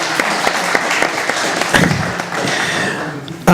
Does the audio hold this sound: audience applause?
yes